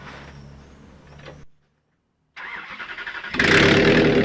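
A turbocharged Toyota 1UZ V8, freshly swapped in after a big-end bearing failure, cranks briefly, goes quiet, then turns over in rapid pulses and catches into a loud, steady idle close by.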